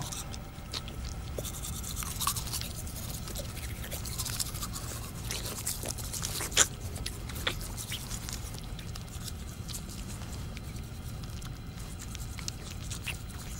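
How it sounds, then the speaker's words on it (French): Steady wet scrubbing and bristly swishing, close and continuous, like a toothbrush working back and forth, with a few soft clicks scattered through. "Tu fais trop de bruit, arrête. Je me brosse les dents."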